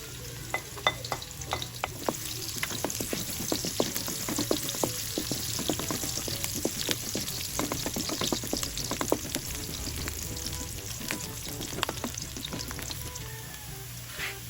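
Garlic and onion frying in oil in a wok-style pan, a steady close sizzle broken by frequent sharp crackles and stirring scrapes, with no voices.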